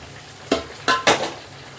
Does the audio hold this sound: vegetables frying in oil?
yes